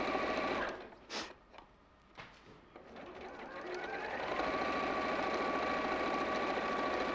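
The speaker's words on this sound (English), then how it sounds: "And I'll just sew down here." A domestic sewing machine stitches black thread into red fabric, starting with a few short bursts and then settling into a steady, close, whirring run of rapid needle beats.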